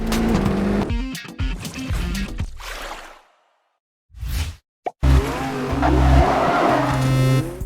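Racing cars in the Rally 1 video game rev and whine, tires squeal through skids, and brief near-silent gaps break the stream of loud engine noise and skidding.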